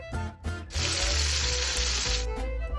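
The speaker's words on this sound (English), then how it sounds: "Hear that sizzle?" Loud, steady sizzling of mushrooms frying in hot olive oil, with a couple of brief clatters at the start before the hiss swells and holds.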